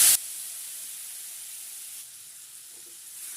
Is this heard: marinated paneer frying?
yes